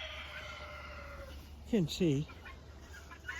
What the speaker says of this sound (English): And there's a few chickens, roosters, plenty.